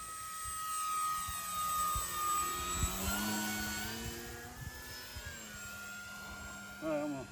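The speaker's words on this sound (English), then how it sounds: "this airplane flies great" Dynam PT-17 radio-controlled model biplane flying overhead with a thin, whining electric motor tone that rises and falls in pitch as it passes, faint and steady through the clip with some background noise.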